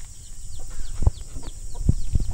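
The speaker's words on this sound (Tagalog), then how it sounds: "nandito naman yung ating broiler chicken na bagong biling sisiw" Broiler chicks cheep and peep in a steady chorus of high, thin chirps, with a few louder thumps and bumps nearby.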